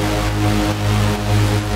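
Sustained synthesizer chord from a Punishing Gray Raven track, held steadily without rhythmic gating, a smooth continuous pad-like tone with deep bass underneath and only slight swells in level.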